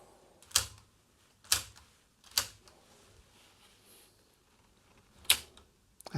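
A SABA Meersburg 100 radio's tuning mechanism gives sharp, distinct mechanical clicks, four spaced about a second apart and then one more after a pause, set close against a quiet background.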